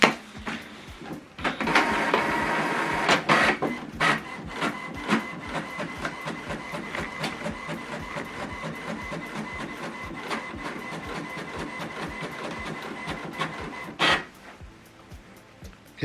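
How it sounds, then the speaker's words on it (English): An HP printer runs a double-sided print job, its rapid mechanical clicking and whirring steady for about fourteen seconds, then a brief louder clunk as the sheet feeds back inside, with no talking. "So now this document is going to print double-sided."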